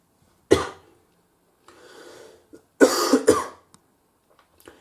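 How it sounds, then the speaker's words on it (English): Someone nearby coughs a few times over a running Blomberg washing machine, a hard cough first and then a rougher double cough after a breathy pause, with a little throat clearing. "I got a little bit of a cough there"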